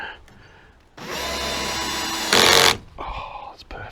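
An electric drill bores into wood at a camper build, whining loudly and steadily for about two seconds before pitching up briefly and stopping, with faint background noise around it.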